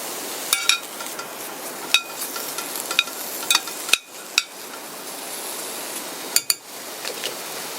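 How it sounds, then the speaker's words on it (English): Steady hissing sizzle of bacon frying in a pan, punctuated by occasional sharp clinks and scrapes of a utensil against the pan. "You hear that excellent sizzle already?"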